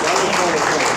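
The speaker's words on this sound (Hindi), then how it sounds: "दादा जी आप बहुत खुश हैं, बस ताली वाली बजाइए" Audience at a Hindi comic poetry gathering (hasya kavi sammelan) clapping in a dense, steady wash for about a second, with voices mixed in.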